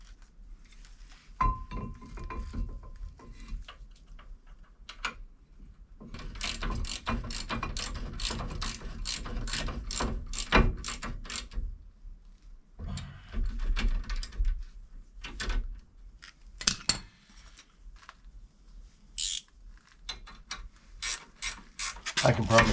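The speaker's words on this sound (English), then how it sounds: "I never get the ratcheting wrench going the right direction the first time" A ratcheting wrench clicks during brake work on a 2016 Subaru Forester: close, sharp, rapid bursts of ratchet clicks come in several runs separated by short pauses, with occasional metallic clinks between them.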